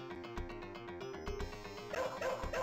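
A dog barks and yips in the Shadow Dancer arcade game, heard as rhythmic synthesized sounds that repeat over looping game music with steady percussive beats.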